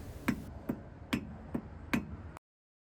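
Five light metallic taps seat a front brake cap into place on a 1985 Toyota Celica Supra, evenly spaced about half a second apart, close and crisp, then silence.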